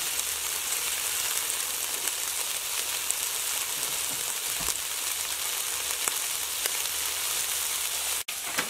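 About half a pound of home-ground pork sausage frying in a pan gives a steady, close sizzle, with one brief knock near the end.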